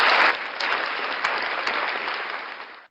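A church congregation claps together in sustained applause that swells at the start and holds steady before stopping abruptly, with no voices heard over it.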